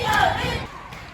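A home crowd of Hamilton County Foxes fans at a high school basketball game cheers loudly, a brief swell of roaring voices that fades within about a second.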